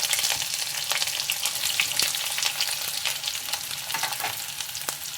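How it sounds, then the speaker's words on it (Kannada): Onions and green chillies fry in hot oil in a pan, giving a steady, close, continuous sizzle and crackle with no voices. "ಈಗ ಒಂದು ಪ್ಯಾನ್ಗೆ ಎಣ್ಣೆ ಹಾಕ್ಕೊಂಡು ಇದನ್ನೆಲ್ಲ ಫ್ರೈ ಮಾಡ್ಕೊಳ್ಳೋಣ."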